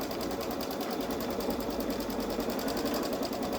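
A Babylock Solaris 3 embroidery machine stitching a sweatshirt sleeve, a fast, steady mechanical whirr and rapid needle chatter running close and continuous, with no talk.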